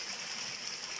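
Natural mountain stream water flowing down from the Sierra de Espadán, a steady broadband rush and hiss of running water, close and continuous without pause.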